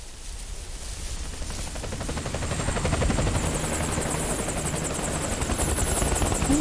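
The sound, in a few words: helicopter landing at graveyard in Metal Gear Solid 4 video game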